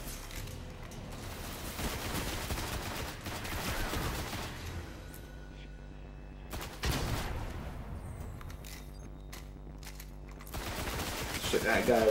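Gunfire rattles in Destiny, a Warlock playthrough, with several bursts of shots and scattered single reports in a game battle, some loud and close, others quieter, with a faint background hum between volleys.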